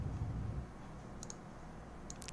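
Mouse clicks on a new tab plus button, two quick pairs of small sharp clicks, close and quiet over faint background noise.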